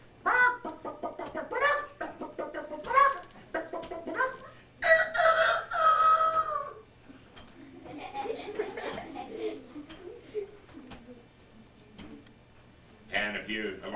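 A man imitates a chicken before a group of students, clucking and crowing in a run of loud squawking calls, followed by a murmur of voices and a final burst of clucks.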